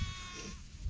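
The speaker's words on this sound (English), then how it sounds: "this is one of 3 shelters we have for our boy goats, our bucks" Buck goats in a small winter shelter, one close, sustained bleat rising over a muffled low background of movement.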